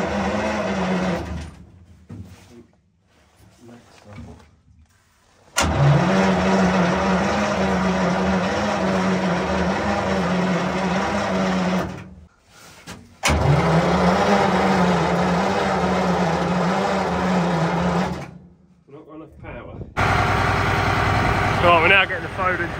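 A Centurion ARV armoured recovery vehicle's heavy engine cranks in long sustained bursts, a loud close droning turnover that stops and restarts several times, with voices talking between attempts.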